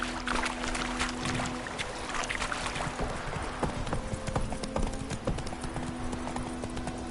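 Roach the horse gallops in The Witcher 3, hooves pounding in a fast, steady clip-clop rhythm close by, loud and continuous with no talk over it.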